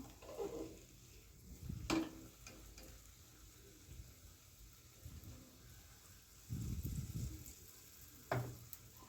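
Wheat and egg bonda batter fries in hot oil with a soft, quiet sizzle, rising in short bursts as ladlefuls go in and are turned, with occasional light utensil knocks.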